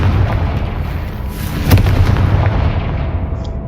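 A Confringo fire spell from Hogwarts Legacy explodes with a dense, rumbling blast, followed by a sustained roaring wash of fiery noise and a brief sharp crack midway before it tails off.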